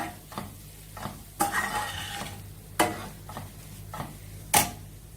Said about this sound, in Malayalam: പച്ചമണം മാറുന്ന വരെ വഴറ്റി കൊടുക്കാം